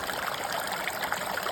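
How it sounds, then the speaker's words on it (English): A natural stream of water flows and trickles steadily on a hike, its broadband splashing close by and continuous as a water bag is filled, with no voices. "I was getting water from here because I saw this flow was perfect to fill up this here Seanock"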